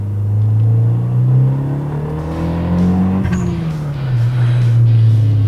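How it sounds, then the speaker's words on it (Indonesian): A turbocharged 1993 Mitsubishi Eterna GTI, front-wheel drive, revs up and down in a loud, steady drone. The pitch climbs, peaks around midway, drops, then rises again, with no talking. "Bahwa mobil ini pasti yang kalian pengen itu cuma ngegas."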